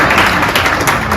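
A group of people clapping at a board retreat, a brief dense burst of applause that stays steady and close throughout.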